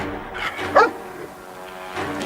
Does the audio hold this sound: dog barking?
yes